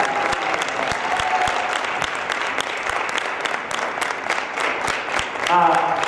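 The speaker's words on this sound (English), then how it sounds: "Let's give them all one more big round of applause." An audience at an evening theatre performance applauds loudly and continuously, with sharp individual claps standing out and a voice briefly heard near the end.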